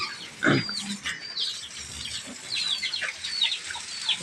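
A pig on a simple backyard pig farm grunts loudly and close by, while chickens cluck in the background.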